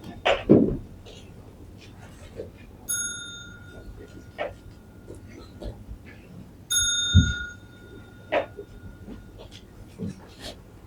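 A bell is struck twice during a bowing ritual at a Buddhist Dharma talk in a hall, each ring clear and sustained with a long fading tone, some distance apart, between soft room noise and faint shuffling.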